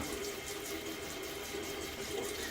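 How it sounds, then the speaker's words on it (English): Warm tap water running steadily from a faucet while soap is rinsed from a shaving brush knot, a continuous close hiss and splash filling the whole moment. "I have to get the warm water up here to make sure the knot gets cleaned of all the soap"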